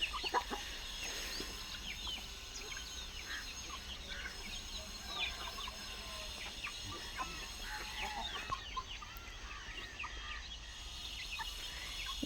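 Backyard chickens cluck and call in scattered short bursts, fairly faint and distant against a steady outdoor hiss, with no talking.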